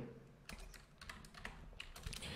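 Someone types code on a computer keyboard in close, quick bursts of crisp key clicks with short pauses, the keystrokes clustering more densely toward the end.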